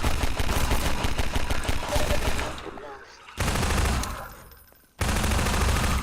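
Enemy gunfire rattles in bursts across a Half-Life custom map, loud sustained volleys that break off briefly and then resume.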